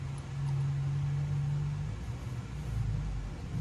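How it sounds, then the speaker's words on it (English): A Nissan Hardbody pickup truck engine with a newly fitted exhaust rumbles low and steady nearby, a continuous idling drone with a slight rise toward the end. "That sounds like Tony's truck"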